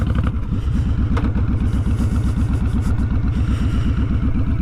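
A big-displacement motorcycle lugs along in first gear, its engine giving a loud, close, steady low-pitched pulsing thump with a rapid even rhythm that carries through the whole stretch.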